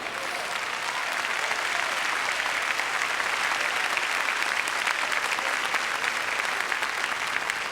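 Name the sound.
audience applause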